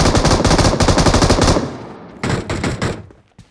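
A powerful gun fires a long, loud, rapid burst of shots close by, then a pause and a second shorter burst, each one hard-hitting with heavy recoil.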